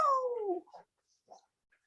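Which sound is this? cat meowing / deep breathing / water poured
cat meowing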